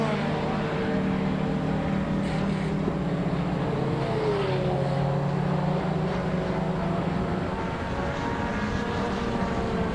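Czech-built Praga carbon-fibre monocoque race cars circle Silverstone during a qualifying session, their engines a steady, distant drone that rises and shifts as cars pass, holding a constant level throughout.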